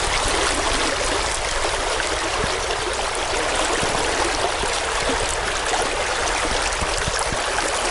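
Steady, continuous rush of water flowing along the Nipissing River, a dense broadband wash with small splashes and trickles, constant and close, with no voices.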